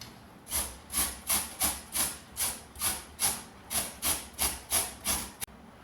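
A peeled raw potato is rubbed against a grater in about a dozen steady, evenly spaced rasping strokes, close and fairly quiet, each with a scratchy hiss.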